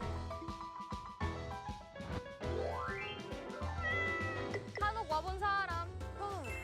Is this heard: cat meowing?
yes